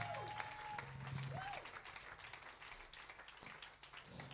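Worshippers at a French-speaking prophetic church service applaud and cheer together, a steady wash of clapping and crowd noise at moderate level, with a voice briefly audible near the start.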